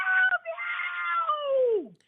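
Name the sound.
voice imitating a baby crying like a cat's meow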